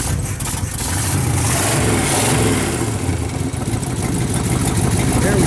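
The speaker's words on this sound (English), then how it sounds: "I'm gonna give it a little bit of gas." A Chevy engine fitted with a new budget carburetor runs loud and close as light throttle is applied, holding a steady rough roar with mild swells in revs throughout.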